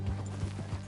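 Horse hooves clop in a quick rhythmic gallop in the Red Dead Redemption 2 video game, with three or four heavy footfalls close and clear.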